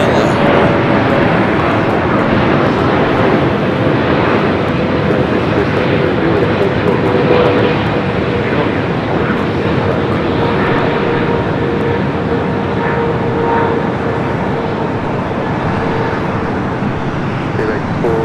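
An airliner of Philippines flight 102 from Manila moves at LAX airport, producing a loud, continuous broadband engine roar that holds steady throughout without breaks.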